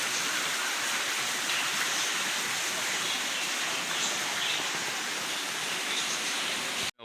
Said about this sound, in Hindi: ये देखें पानी की सूरत हाल, पानी कैसे आ रहा है ऊपर से